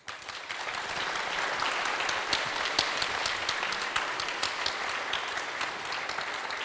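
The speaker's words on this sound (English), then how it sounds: "Can I get a round of applause for the panel?" A live audience at a panel discussion on thirty years of Ruby bursts into steady, full applause that holds evenly for several seconds, dense clapping with no talk over it.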